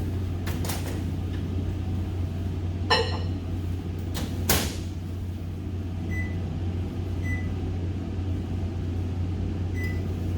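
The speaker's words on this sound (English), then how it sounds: "put this cup in the microwave." A microwave oven runs with a cup of homemade glue mixture inside, giving a steady low electrical hum throughout, broken by a few short clicks and knocks and faint intermittent beeps near the end.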